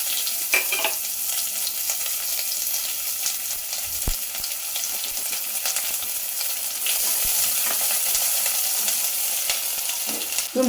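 Chopped big onion frying in oil and ghee inside a cooker, a loud continuous sizzle with bright crackling throughout and brief stirring clatter near the start and end, no talking.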